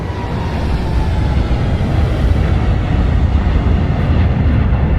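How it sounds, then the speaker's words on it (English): A steady, dense roar of an airliner's engines heard from outside, from a flight simulator sound pack, continuous and fairly loud with no talking. "For exterior, we also recorded plenty of exterior shots of this aircraft."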